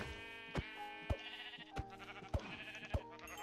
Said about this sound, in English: Let's beat the hell out of a sheep with a pickaxe.